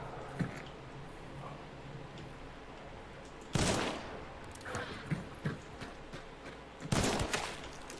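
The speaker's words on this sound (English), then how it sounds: "I'm about to shoot this dude in his head." Two loud gunshots fired at an enemy in a video game, several seconds apart, each a sharp crack with a short tail, amid quieter game clicks and thuds and no talking.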